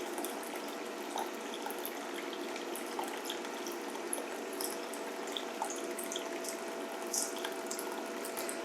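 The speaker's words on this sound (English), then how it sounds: "turn on the stream table here and watch what happens when the source of water is turned on and where the river flows" Water running steadily through a stream table river model from its source, a continuous, even trickling wash with scattered small splashes and drips, close and moderate in level, with no voices.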